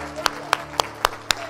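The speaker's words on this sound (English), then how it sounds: "Give the Lord a hand clap of praise" A church congregation claps hands in praise, five sharp, evenly spaced claps in unison ringing out in a reverberant hall, with faint background murmur.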